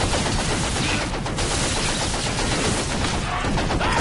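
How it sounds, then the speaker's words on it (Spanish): Pistol fire in the video game Evolve, a dense, continuous crackle of shots that fills the whole stretch at steady loudness, with no clear gaps between reports. "Vale, esto es la pistola, ¿no? Básicamente disparamos."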